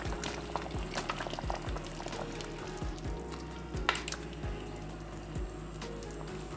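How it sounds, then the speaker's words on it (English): A pot of Jamaican vegetable soup being stirred, liquid sloshing and bubbling steadily with repeated low scraping strokes, moderately loud and close with no voices. "we're going to just give this a good stir to incorporate the cock soup"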